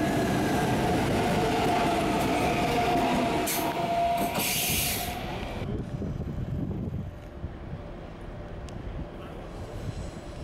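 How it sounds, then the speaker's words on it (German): An ICE high-speed train pulls out of Würzburg Hauptbahnhof, its loud, steady rolling rumble filling the platform before gradually easing off and fading away. "Ausfahrt des ICEs nach Essen."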